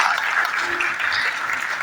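Loud, dense audience applause in a church gathering honoring a pastor, a steady wash of clapping from a congregation that fills the short moment.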